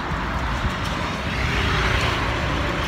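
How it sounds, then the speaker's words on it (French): Cars stream along a road in a constant broadband rush of passing traffic, loud and continuous without any clear gaps, with no voices over it. "Il y a beaucoup de voitures qui circulent"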